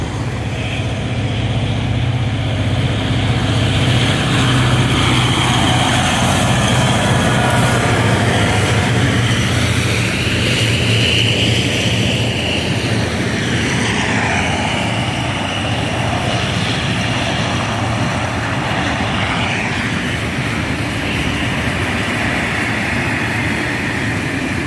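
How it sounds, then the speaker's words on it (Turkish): A coal-loaded freight train bound for Karabük rumbles past at a distance with a long, steady roar, the pitch of the wheel and engine noise shifting as it goes by, with no talking. "Şu an tren kömür yüklü. Karabük'e gidiyor."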